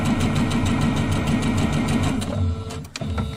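A sewing machine stitches quilt pieces together with a 1/4 inch seam, giving a fast, steady mechanical whirring and clatter that runs close and loud. It slows and stops near the end.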